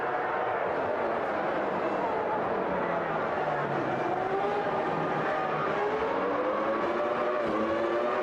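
A 1991 Formula 1 car in Automobilista 2 drones continuously with a loud, high-revving engine, its pitch wavering up and down as it accelerates and shifts, with several engine notes overlapping.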